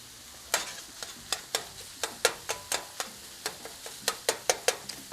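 Onions, jalapenos and tomatoes hit hot olive oil on a Blackstone griddle, giving a steady sizzle broken by a dozen or so sharp, evenly spaced scraping clicks of a spatula stirring the vegetables, close and fairly loud, with no talking.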